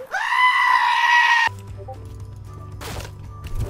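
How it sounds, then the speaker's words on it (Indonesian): A goat gives a loud, wavering bleat lasting over a second, then stops abruptly; quieter game sounds, faint clatter and a brief noisy burst follow, with no voices. "Oh, wah, kambing."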